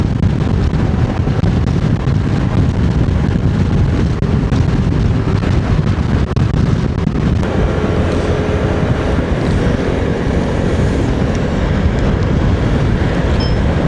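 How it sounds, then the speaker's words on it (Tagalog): Heavy wind buffeting the microphone during a ride near Baler, a loud, constant roaring rush that fills the whole clip without letup, no voices audible. "Sarap! Sobrang hangin"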